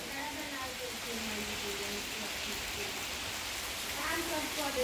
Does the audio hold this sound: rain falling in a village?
yes